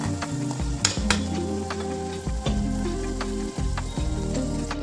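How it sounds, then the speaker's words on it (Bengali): Loud, bubbling sizzle of luchi dough frying in hot oil in a kadai, with occasional sharp clinks and scrapes from a utensil. "ফুটিয়ে দিলাম লুচিটা"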